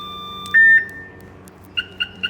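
A Viper security system in a 2003 GMC Sierra single cab gives a loud, close electronic tone followed by three short, evenly spaced beeps, with no voices.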